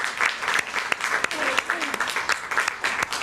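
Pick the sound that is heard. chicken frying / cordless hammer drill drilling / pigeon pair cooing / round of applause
round of applause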